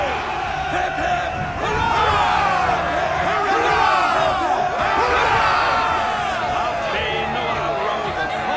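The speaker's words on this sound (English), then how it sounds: "How's about a cheer for the boys, then, eh?" A ship's crew in Assassin's Creed 3 roars a loud cheer after taking a vessel, many voices shouting and whooping together in a sustained, rising crowd cry with brief swells, close and dense.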